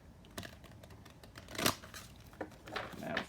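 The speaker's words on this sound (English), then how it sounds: "That was the worst shuffle in the world." Tarot cards are shuffled in a few quick, papery riffling bursts with soft flicks and brief gaps in between, close by and fairly quiet, with no talking.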